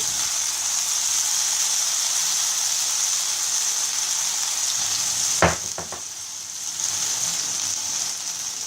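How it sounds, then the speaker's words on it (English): Paneer pieces frying in hot oil over a medium flame, a steady close hiss of sizzling broken midway by a sharp pop and a few crackles as the oil splutters. "Be careful of the oil, it starts spluttering."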